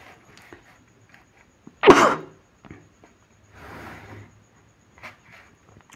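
A single sharp, explosive cough close to the mic, blamed on mosquito coil smoke in a room, followed by a softer breathy throat sound and faint handling noises.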